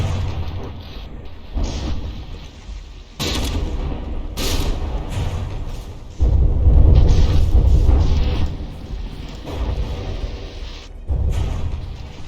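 Naval guns fire in a From the Depths battleship battle, heavy booms and blasts in uneven bursts, loud and close, with rumbling gaps between the impacts.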